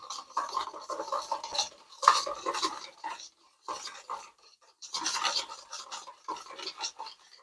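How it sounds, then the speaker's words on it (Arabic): A spoon stirs sugar and milk into water in a bowl, scraping and clinking in steady bursts. Two brief pauses break the sound, and it stays fairly close and quiet. "نحركهم ليذوب السكر تماما"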